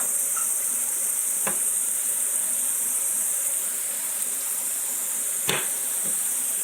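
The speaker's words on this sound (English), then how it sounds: "we will throw the steak in the pan where it needs to sit for a minute and a half, and sear" Ribeye steak searing in bubbling butter in a hot pan, a steady loud sizzle and hiss that runs without pause, broken by a couple of sharp clicks or clanks.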